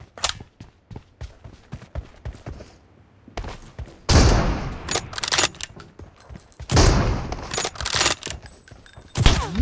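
Gunfire in PUBG Mobile, rapid bursts of shots and thumping impacts, sparse at first, then louder clustered volleys and heavy blasts that come in uneven waves.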